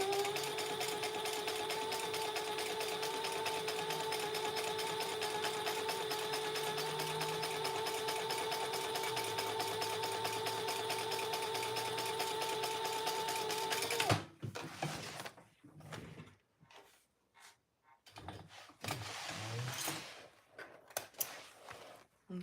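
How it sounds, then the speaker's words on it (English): A sewing machine top stitches a seam on a garment panel, running steadily for about fourteen seconds before stopping, followed by quiet handling noises of fabric and tools. "Do your top stitching before you connect the other middle panel."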